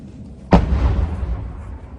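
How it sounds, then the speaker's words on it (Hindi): Artillery fire near the Gaza Strip: a single sharp, heavy boom bursts out at a distance and rolls into a long fading rumble, with no talk over it. "ये आर्टिलरी की ऐसी ही आवाजें आपको सुनाई देंगी"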